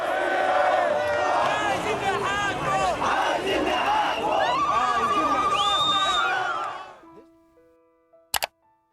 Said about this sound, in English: The announcement was met with jubilation among the crowds of protesters in Cairo.